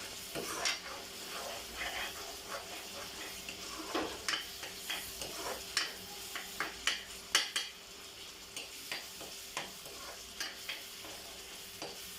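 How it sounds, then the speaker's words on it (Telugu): Onions fry in a pan with a pinch of turmeric, a soft continuous sizzle beneath repeated scraping and tapping of a spoon stirring against the metal, close up and steady, with no one talking. "ఈ ఆనియన్స్ మంచిగా ఫ్రై అవ్వకపోతే ఈ ఆనియన్ టేస్ట్ కానీ టమాటాలు కానీ అంత"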